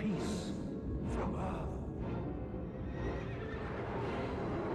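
A horse whinnies loudly over a dense, rumbling background, with a few shrill neighing bursts and no speech.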